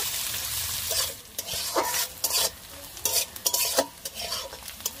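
Chopped onions and two bay leaves fry in hot oil in a pan, a continuous soft sizzle under repeated close scraping stir strokes at an uneven rhythm.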